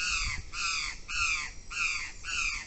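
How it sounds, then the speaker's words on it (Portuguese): A crow caws repeatedly over a rural farm field, giving five harsh, evenly spaced calls at close range. Only faint background noise sits beneath the calls. "Isso é corvo que tá pintando ou era?"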